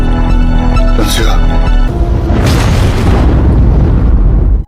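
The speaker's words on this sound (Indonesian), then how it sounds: "seketika tempat itu pun diledakkan" A place is blown up in a film scene: a loud booming explosion roars over a music bed, followed by a second rumbling blast and debris before cutting off abruptly.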